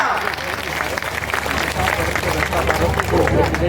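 Dense, steady crowd applause at an outdoor political rally for Krishna Poonia in Sidhmukh, with a large gathering of thousands clapping continuously and a hubbub of voices mixed in.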